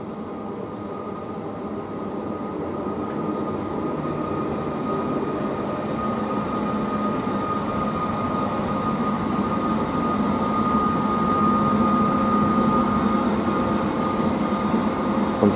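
A Railjet train pulls into Kufstein station with a steady, low, rumbling roll and faint tonal hum that slowly grows louder as it approaches. No voices are heard.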